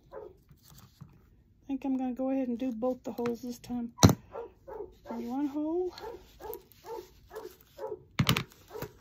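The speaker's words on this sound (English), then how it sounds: "If you hear that dog barking outside," A dog barks outdoors in short, harmonic bursts at mid distance, recurring in separate clusters, with someone talking over and between the barks and a couple of sharp clicks.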